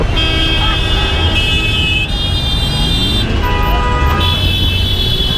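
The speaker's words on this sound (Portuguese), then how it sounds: "o trânsito na Índia, ele é muito, muito caótico" Chaotic road traffic in India, with loud car horns tooting repeatedly over a dense rumble of engines and street noise, several honks overlapping and sounding close by.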